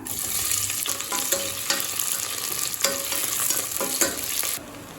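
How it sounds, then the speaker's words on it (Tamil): Two onions frying in a pan for Thalappakatti chicken biryani, a dense continuous sizzle with intermittent spoon scrapes and stirring strokes, close up and steady, then dropping off at the end. "2 வெங்காயத்தை சேர்த்துக்கலாம்."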